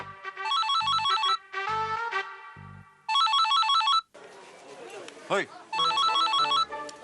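A mobile phone rings with a repeating electronic melodic ringtone in bursts, loud and close, with a brief whooshing sound effect between rings in a TV drama scene.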